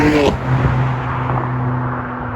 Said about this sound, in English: Setting off here in the M2